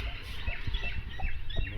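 A hen with her chicks clucks in short, low, repeated calls, close and fairly steady. Light chick peeps rise over the clucking.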